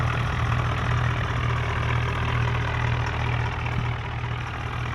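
Tractor engine in an Indian vehicle simulator video game, a steady low diesel idle chugging evenly and loudly with no break, heard alone without talk.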